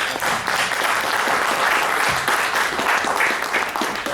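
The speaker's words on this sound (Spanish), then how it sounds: "para lo cual pido fuertes aplausos" An audience at a university philosophy and humanities colloquium applauds steadily and loudly for a few seconds, a dense wash of many hands clapping at once.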